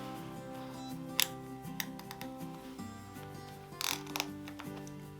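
An Anson ratchet belt is pulled through its buckle in a quiet room, giving a series of close, faint clicks and ticks with a few sharper snaps scattered irregularly across the moment.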